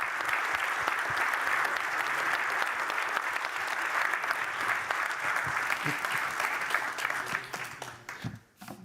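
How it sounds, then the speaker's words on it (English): Audience applause for a panel at a European Maritime Day event in Svendborg, Denmark: sustained, dense clapping from a sizable crowd, steady for about eight seconds before tapering off quickly at the end. "Big applause to our panelists."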